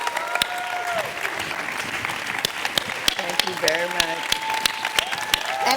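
Audience applause for the guest at an interview, dense steady clapping from a crowd lasting throughout, with a voice speaking over it.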